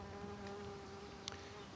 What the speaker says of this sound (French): Et oui, il y a une abeille, un bourdon là.